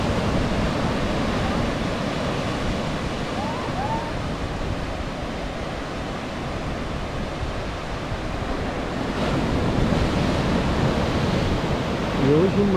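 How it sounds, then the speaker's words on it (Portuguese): Ocean surf at Morro do Maluf in Guarujá roars continuously as a dense wash of breaking waves, loud and near, with wind buffeting the microphone throughout. "E hoje o mar tá até calmo, viu, gente?"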